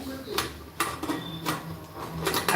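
Pressure cooker lid being fitted and closed on a pot of khichdi, a few sharp metallic clacks and knocks spaced through a short span while someone talks.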